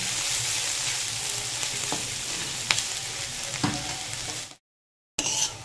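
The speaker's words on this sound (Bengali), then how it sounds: "সবগুলো ভালো করে ভেজে নেব" Chopped vegetables, including capsicum, fry in a pan for fried rice with a steady, close sizzle and a few scraping stirs, then a brief silence before the sizzle resumes.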